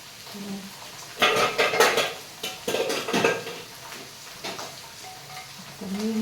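Metal cookware clanks and rattles as a pressure cooker lid is handled and closed, a cluster of close, sharp clatters with brief pauses between.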